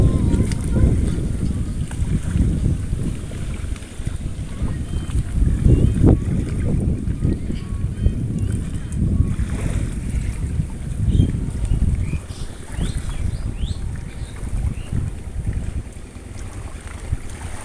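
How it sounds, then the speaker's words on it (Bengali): A boat moves across wide river water, its motor a low continuous rumble mixed with wind noise on the microphone, while a voice talks at times. "এই যে নৌকাটা আসতেছে কতটা স্পিডে বা কত ইয়েতে চলে আসতেছে"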